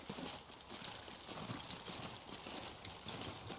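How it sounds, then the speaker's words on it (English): Horse hooves clip-clop steadily in a horse riding video game, a continuous faint rhythmic patter of hoofbeats over a dense background wash. "there's another horse you get to meet called Blaze, which is actually the instructor's horse that we're working with"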